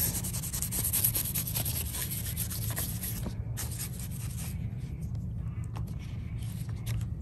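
Soft bristle brush scrubbing a plant's leaves to loosen spider mites, a close, steady rubbing scratch with repeated back-and-forth strokes, a voice talking quietly over it.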